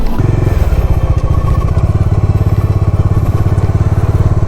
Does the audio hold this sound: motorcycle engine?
yes